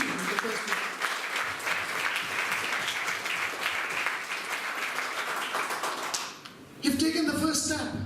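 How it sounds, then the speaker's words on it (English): An audience at a talk in Malaysia gives a sustained round of dense applause that fills most of the moment, then breaks off near the end as a voice takes over. "I think all of you deserve a huge round of applause over here for being here in the first place."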